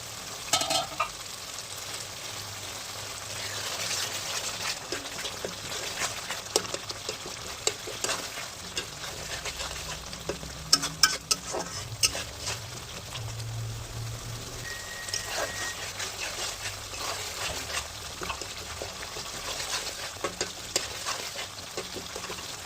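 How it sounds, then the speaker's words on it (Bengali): Spice paste for a katla fish curry is stirred and fried in oil in a pan until the oil separates. It gives a continuous, moderate sizzle with frequent soft scraping and clicking strokes from the stirring. "এরপর এই মশলাটাকে বেশ কিছুক্ষণ ধরে কষিয়ে নেব।"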